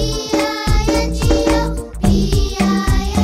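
Bouncy game music from Donkey Konga plays the Bingo song, a full, loud arrangement with a steady beat of drum hits and bright melodic notes repeating in a lively rhythm, with no talking over it.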